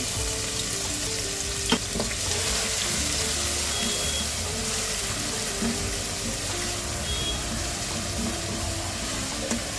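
Finely chopped onion sizzling and frying in hot oil with cinnamon for Punjabi rajma masala, a steady close crackle across the whole stretch with a couple of brief clinks of stirring.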